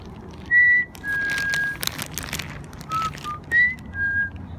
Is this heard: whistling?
yes